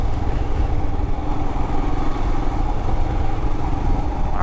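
A 2021 Royal Enfield Himalayan BS4 single-cylinder motorcycle engine runs in a steady, loud, continuous low rumble with a faint clatter throughout, with no talk over it.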